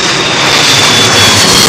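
A widebody jet on arrival at Heathrow's runway 27L, a Delta Air Lines A330-300 with GE CF6 engines, delivers a brief, very loud, close-up engine roar that is steady from start to finish.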